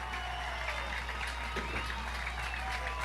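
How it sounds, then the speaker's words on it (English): A grandstand crowd at a 1985 supermodified race at Sandusky Speedway applauds driver Doug Sonier as he climbs from his car, steady crowded clapping with a bit of cheering over a low constant hum, heard from some distance. "How about a big round of applause?"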